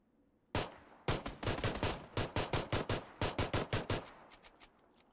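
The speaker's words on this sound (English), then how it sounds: "I'm trying to shoot him from a distance, but it's not working." Rapid bursts of gunfire from PUBG, a loud sharp volley of about twenty shots in quick uneven rhythm, close and dominant with no talking, tapering off into fainter scattered pops at the end.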